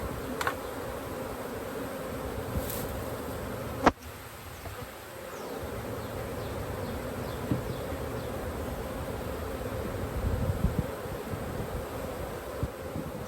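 A swarm of honey bees buzzes in front of a hive during a February hive check, a dense continuous hum with individual bees passing close, a sharp knock partway through and faint wind.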